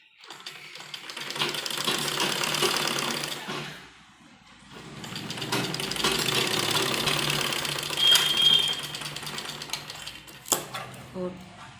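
Sewing machine stitching piping onto a kurti neckline, steady mechanical whirring in two long runs with a short pause between, then a few shorter bursts and clicks, fairly loud and close.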